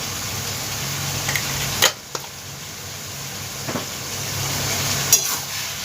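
Spices for a carp curry sizzle steadily in a hot pan, a continuous close hiss broken by a few sharp clinks and scrapes of stirring.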